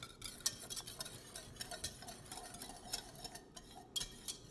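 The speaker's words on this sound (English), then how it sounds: "So I'm gonna keep hitting it with this whisk." A metal whisk stirs a thickening, lumpy cheese sauce in a pot for homemade macaroni and cheese, making quiet, steady tapping and clicking against the pot with no talk.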